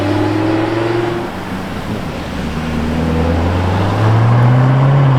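A white Lamborghini Huracan Tecnica drives past on the road, its engine a loud droning tone that dips and then climbs in pitch as the car nears and goes by.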